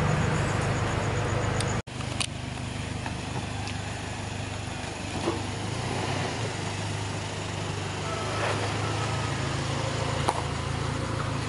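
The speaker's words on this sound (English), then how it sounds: "that is a noisy truck for 5 in the morning" A low, steady engine rumble idles continuously nearby, with faint outdoor background noise and a brief dropout near the start.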